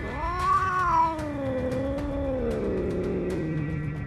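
An aggressive cat yowls in a long, drawn-out, wavering caterwaul during an attack indoors, loud and close, with the pitch sliding down toward the end.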